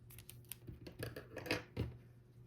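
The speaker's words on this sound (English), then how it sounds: "cut a tail long enough to sew this ear onto the base" Scissors snip through a crocheted yarn tail during amigurumi ear making, a few close, crisp cuts spread across a couple of seconds with faint rustling between them.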